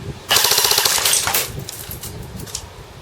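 A CYMA Galil airsoft rifle on a 9.6 volt battery fires a fast full-auto burst, a loud close rattling buzz of rapid shots lasting about a second before fading into room noise.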